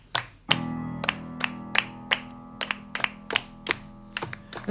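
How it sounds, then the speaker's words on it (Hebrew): An audience claps along in steady rhythm at a live concert, crisp, evenly spaced claps ringing out over a sustained musical chord. "למחוא כפיים"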